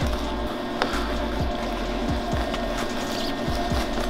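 Tack welding on a Toyota MR2 Spyder exhaust V-band clamp gives a continuous harsh crackling buzz, punctuated by irregular low thumps and pops throughout.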